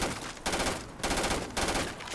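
Rapid automatic gunfire shooting at wildlife in Starfield comes in two loud, close bursts of about half a second each, with short silent gaps between them.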